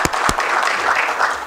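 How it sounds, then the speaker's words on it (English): A brief, dense burst of audience applause welcoming a university speaker to the podium, steady and fairly loud with no voices over it. "can we welcome him with a round of"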